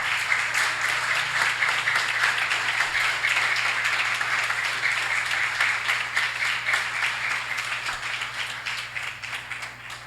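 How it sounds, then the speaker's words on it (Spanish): A church congregation claps loudly and steadily in praise during a Spanish-language evangelical service, continuous dense applause with a low sustained tone humming underneath throughout. "Démosle un fuerte aplauso al Señor."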